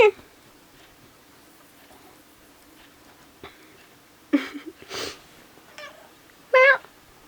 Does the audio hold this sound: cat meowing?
yes